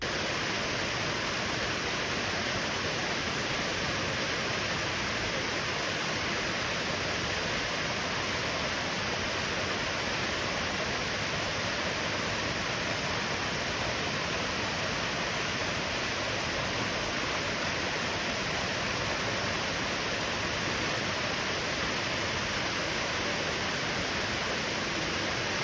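Cowsheds Falls in Fillmore Glen State Park, New York, pours in a steady, dense rush of falling water that holds unchanged throughout, full and broadband with no voices.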